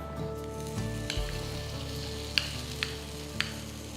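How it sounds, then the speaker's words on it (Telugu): Ground ginger chutney sizzles steadily as it roasts in hot oil in a pan, a continuous close frying hiss with a few sharp clinks of a utensil against the pan and no talking. "ఇప్పుడు మనం రుబ్బి పెట్టుకున్న అల్లం పచ్చడి దీంట్లో వేసేద్దాం"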